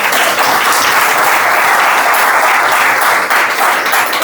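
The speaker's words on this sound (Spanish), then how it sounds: "le damos un aplauso" A church congregation bursts into loud, sustained applause, a thick and continuous roar of many hands clapping at once that stays strong from start to finish.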